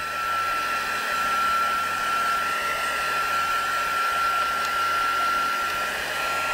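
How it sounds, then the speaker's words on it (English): A heat gun blows hot air to dry craft ink, giving a steady, loud, close whooshing roar with a thin high whine running through it and no break or talk. "Just give my heat gun a bit of a warm up"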